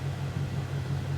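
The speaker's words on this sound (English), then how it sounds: "The engine just sounds gorgeous." A Ford Shelby Mustang GT500 idles at Palm Beach International Speedway, a steady, low, throbbing rumble that holds evenly throughout at moderate volume, with no talking.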